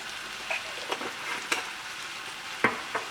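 Turmeric and curry powder fry in a pan with a soft continuous sizzle, punctuated by several sharp clicks and scrapes of a spoon stirring, with no talking.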